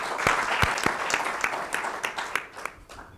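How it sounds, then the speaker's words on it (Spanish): Audience applause at a Spanish event, a dense continuous patter of many hands with a few louder nearby claps standing out, fading toward the end. "yo sí quiero pedir para ellos y para ellas un aplauso"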